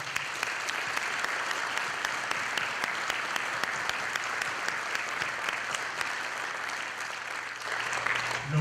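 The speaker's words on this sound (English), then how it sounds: "One more time, round of applause for Colonel Fine." Continuous applause from a sizable audience at a Veterans Day ceremony, even and sustained throughout, with a few louder claps near the end.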